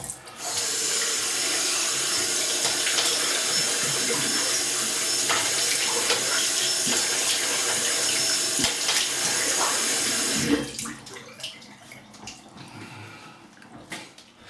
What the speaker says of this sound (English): Just going to hit some cold water.